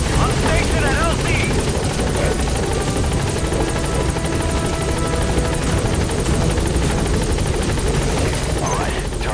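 A helicopter arrives at a landing zone in Metal Gear Solid V: The Phantom Pain, its rotor roaring loud and constant throughout while voices talk over it.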